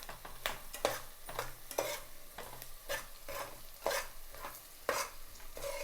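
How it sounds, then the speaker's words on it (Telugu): Onions frying in a pan for cabbage masala pappu are stirred in a steady rhythm, with regular scraping strokes about once a second over a low sizzle, close up and without speech. "ఉల్లిపాయలు ఆ మాత్రం వేగితే చాలు, మరీ ఎక్కువ అవసరం లేదు."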